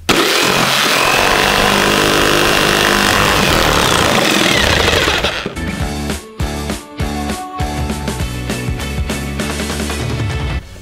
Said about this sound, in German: Dann würde ich sagen, können wir das Ganze einmal aussägen. Funktioniert das mit der Stichsäge?